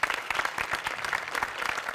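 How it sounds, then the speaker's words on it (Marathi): Loud audience applause for Sachin Mote and Abhijit Pawar at a Marathi comedy show, rapid individual claps blending into a lively, steady ovation. "सचिन मोटे अभिजित पवार दोघांसाठी प्रचंड टाळ्या"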